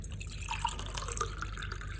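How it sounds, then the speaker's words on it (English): Water poured into a glass while making a fennel sharbat drink, a soft trickling fill with light drips and gurgles, fairly quiet and close, with no talking. "And I'm just gonna add some water."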